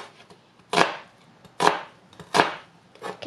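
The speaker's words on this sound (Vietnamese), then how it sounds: "Tiếp theo mình bằm hành tây." Onion being minced on a cutting board with a knife, four crisp, evenly spaced chops that land close and distinct against a quiet room, no voices.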